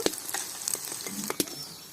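Onions fry in oil in a pan over a wood-fired stove, giving a quiet, crackly sizzle broken by a few sharp stirring clatters and scrapes, with no one speaking.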